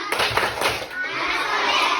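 Fourth-grade primary school children in a classroom clap together in a chanted clapping routine, a few sharp rhythmic claps mixed with young voices calling out, close and lively.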